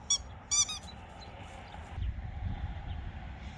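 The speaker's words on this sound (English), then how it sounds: "She likes her squeaky toys." A puppy plays with a squeaky toy: two quick, sharp squeaks near the start, then a faint low rumble with no further squeaks.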